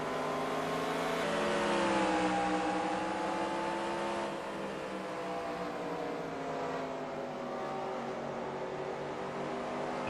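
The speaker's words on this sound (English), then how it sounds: "Listen to how gentle Jay is being in the 63 car" Onboard engine of the number 63 stock car racing at North Wilkesboro, a steady loud drone with rising and falling harmonic whine as the driver works the throttle gently through the corners.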